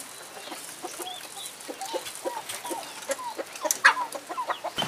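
A mother hen and her chicks cluck in a coop during brooding, with repeated soft clucks and higher peeps scattered throughout, close and fairly steady, with no talk.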